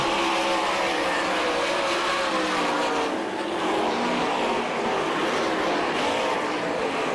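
Sprint cars on a Florida dirt oval at All Star Circuit of Champions Winter Nationals racing deliver a constant loud engine roar from several cars at once. The drone is dense and unbroken, with slight swells as the pack moves around the track.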